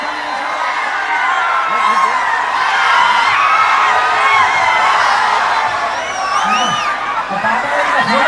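Crowd at a BRS political rally in Telangana cheering and whooping for a singer's entrance, a dense steady roar with shouts rising above it throughout, loud and close.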